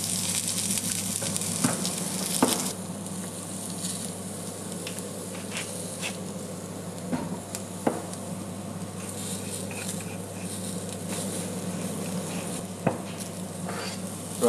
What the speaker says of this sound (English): grill the asparagus